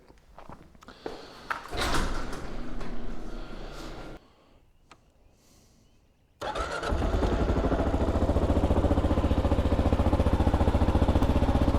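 A Kawasaki KLR 650 motorcycle cranks after some clunks and a pause, then catches and settles into a steady, loud, close single-cylinder idle as it warms up.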